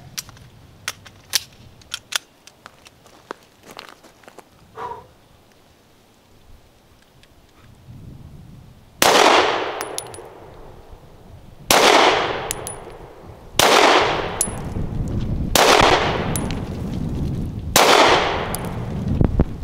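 Walther PDP Compact pistol fired at 7 yards on a range, five sharp, loud shots spaced a few seconds apart, following a quieter stretch with faint ticks and rustling.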